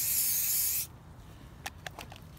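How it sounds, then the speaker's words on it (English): A sharp hissing burst of anti-spatter welding spray lasts under a second, then cuts off, followed by a few faint light taps in quiet surroundings. "Now this is just some anti-spatter to try to keep it clean"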